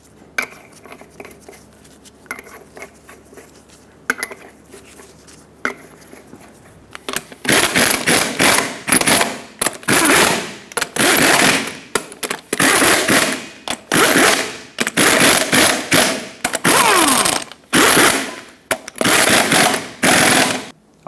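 An impact wrench tightens the wheel lug nuts on a 2000-2005 Ford Excursion during front hub work. After a quieter start it fires in loud, repeated rattling bursts with short gaps between them, close by.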